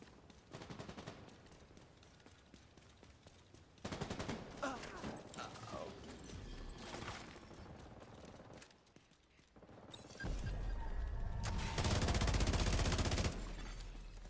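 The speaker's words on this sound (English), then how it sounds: "I hear gunshots." Rapid video game gunfire in bursts, with dense crackling volleys near the start and a louder sustained barrage toward the end, set among other in-game effects.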